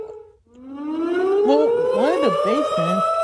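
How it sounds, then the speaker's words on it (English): A tornado warning siren winds up from low to a loud, sustained wail, rising steadily in pitch, with other warbling tones overlapping from farther off. "That's the tornado siren?"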